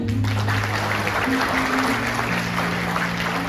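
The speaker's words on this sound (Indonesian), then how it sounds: "kasih tepuk tangan" An audience at a 2025 school graduation ceremony applauds, a steady, sustained clapping that fills the hall, with an amplified voice and a low hum underneath.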